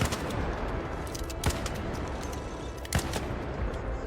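Video game gunfire in ARC Raiders empties a full magazine as a dense rapid rattle of shots, with a few louder cracks standing out, close and continuous for several seconds.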